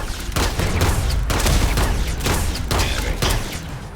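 Enemy gunfire in the space game Starfield, a dense barrage of rapid, close shots cracking in irregular bursts over a continuous rumbling background.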